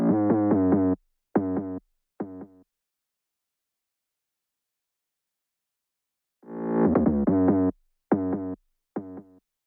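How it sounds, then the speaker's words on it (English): An 808 bass sound in a trap-style beat, set to mono with portamento sliding, plays in two bursts of rapid gliding hits separated by a long silent gap, loud and with no voices over it. "And this 808 sound like this."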